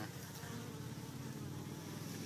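Dense, steady buzzing of many honey bees swarming close by around comb inside a water valve access box, a continuous droning hum without pauses or voices.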